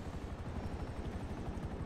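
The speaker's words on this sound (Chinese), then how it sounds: "外面有直升机可以坐，耶！ 免费直升机 要送上去了。" Helicopter rotor in the video game Grand Theft Auto V, a steady low thumping chop that holds close and fairly loud for the whole two seconds.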